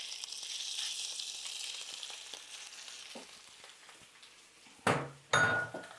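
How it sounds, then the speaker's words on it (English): A steady hissing sizzle of sausage frying in a pan, fading slightly, then two sharp bursts of louder crackling as the pan is stirred. "Oh, listen to that sizzle."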